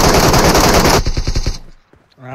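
Rapid automatic gunfire in the battle royale game PUBG, a loud sustained burst of shots in quick rhythm for about a second and a half that then cuts off into near silence, followed by a faint voice at the end.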